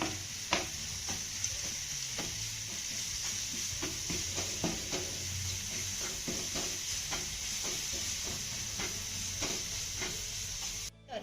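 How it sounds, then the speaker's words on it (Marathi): Turmeric, chilli powder and salt stir-fried in a pan for kothimbir vadi, a continuous soft sizzle broken by regular scraping strokes of a spoon, close and steady, ending abruptly. "आता हे सर्व साहित्य आपल्याला अर्धा मिनिट छान असं परतून घ्यायचं आहे"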